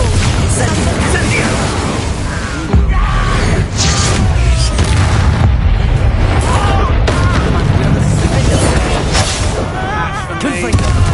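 Explosive spells cast in a video game, a dense, loud stream of booming blasts and bursts layered over swelling effects and battle noise, with voices calling out throughout.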